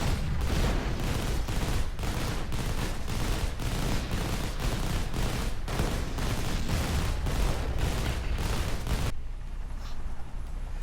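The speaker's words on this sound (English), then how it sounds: "the rocket buggies are indeed assaulting the cash stand. With the mortars." Rocket buggies and mortars attacking in the Rise of the Reds real-time strategy game, a dense, continuous barrage of rapid explosions and rocket fire that ends abruptly near the close, with no talking.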